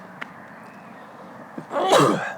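A single sharp sneeze bursts out near the end, close and fairly loud, after a quiet stretch with a faint breath or murmur.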